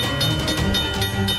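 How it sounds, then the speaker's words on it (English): A cartoon train on a railway rumbles steadily and fairly loudly, with rhythmic clattering pulses throughout and no speech. "The train is coming so fast."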